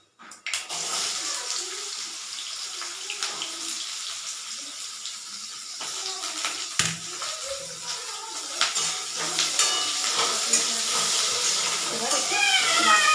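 Panch phoron spices crackle and sizzle in hot oil before amra goes in for a chutney, a hissing fry that grows steadily louder with scattered pops while someone talks over it.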